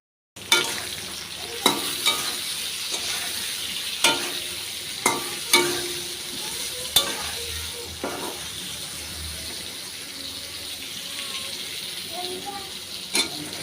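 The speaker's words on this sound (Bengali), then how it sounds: "আর আমি ইলিশ মাছের ঝোলটা রান্না করে নিচ্ছি।" Hilsa fish curry with taro cooks in a pan. A soft simmer runs underneath sharp, evenly spaced knocks and scrapes of a spoon stirring against the pan, with a little watery splashing and some talk heard faintly at times.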